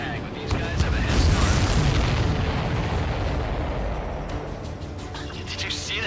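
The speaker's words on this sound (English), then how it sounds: "Did you see that explosion?" A heavy explosion in the flight combat game Ace Combat 7: Skies Unknown, a loud, deep rumbling blast that swells and slowly fades over several seconds, with radio voices speaking over it.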